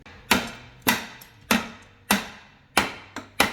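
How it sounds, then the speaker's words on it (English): Six sharp metallic hammer strikes on a snapped mount on a Honda 400EX, at a steady, slightly uneven pace, each ringing briefly before the next, close by with no talking. "Let me grab my hammer. We're gonna persuade it."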